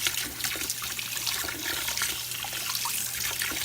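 Steady running water from a tap rinses plastic model kit sprues for a 1:48 scale Revell F4U-4 Corsair, a constant close hiss and splash with no speech.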